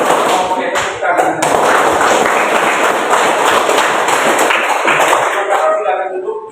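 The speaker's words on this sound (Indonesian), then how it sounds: "Oke, tepuk tangan." Classroom of high school students applauding together, a dense, steady burst of claps filling the room for about six seconds and tapering off at the end.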